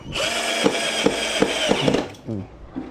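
A power nail gun firing nails into a wooden bed frame post, several sharp regular clacks over a steady motor-like hum, close and loud, followed by a couple of softer knocks.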